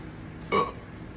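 A single loud belch from a person, about a quarter second long, standing out clearly against quiet background room noise.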